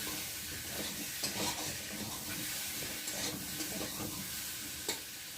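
Potatoes frying in a red spice masala for aloo dum, with an even, continuous sizzle and occasional stirring scrapes close by, no voices.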